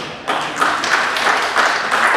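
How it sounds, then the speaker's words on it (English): A comedy show audience at the Legacy Theater claps in scattered, separate bursts, a handful of distinct claps spaced evenly apart over a light room murmur. "give yourself a round of applause for showing up"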